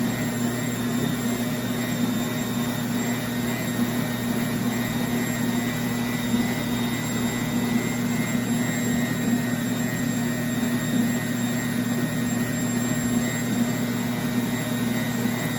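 A NutriMill Artiste 500-watt electric stand mixer with a 6.5-quart bowl runs at speed 3, giving a loud, steady motor whine with a constant hum that holds unchanged throughout, with no talking.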